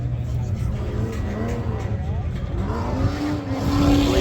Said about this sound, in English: I believe that is an LS swapped out RX-8.